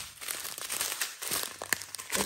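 Plastic packaging crinkles and crackles up close as diamond painting items are pulled out, irregular crisp rustles and small snaps, quiet and with no talking.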